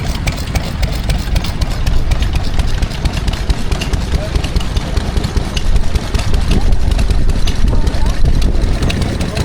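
Several old stationary engines, among them a 1931 Lister D, run steadily at a spring fair in Sussex, a dense rumbling and chugging mix close by with voices talking over it.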